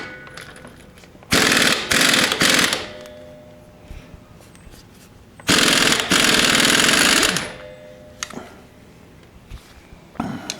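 An impact wrench hammers in loud, rattling bursts while removing a 210 foot-pound Dana 30 front axle nut on a 1976 Jeep CJ-5, with quieter pauses between the bursts and a short tap at the end.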